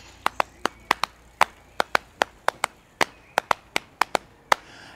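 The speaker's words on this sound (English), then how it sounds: "one of the things that I've been working on lately is it's a rhythm of 4/3, which sounds like this" Hands tap out a 4 against 3 polyrhythm: about nineteen sharp, close slaps in a layered, uneven-looking pattern over five seconds, with no talking.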